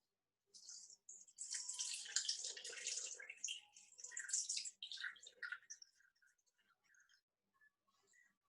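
Water pouring into the bowl of a cooking machine while sweet treats are made, a splashing pour of about four seconds that thins into scattered drips and trickles.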